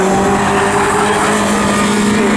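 A touring race car in a club saloon series race at Snetterton accelerates hard out of a left-hander onto the start-finish straight, its engine a loud, steady, close roar with a rising tone sustained throughout.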